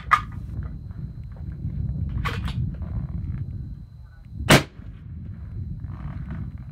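A 6.5 Creedmoor rifle fired through a Thunder Beast 5-inch 30 cal Ultra suppressor gives a single sharp, muffled crack midway, standing out over a low outdoor rumble, with a fainter thump earlier.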